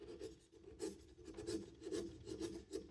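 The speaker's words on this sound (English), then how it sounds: "I'm going to just move to the wide chisel." A wide wood chisel slices a chamfer across the grain of a piece of wood, making faint, close, rasping scrapes in short overlapping strokes.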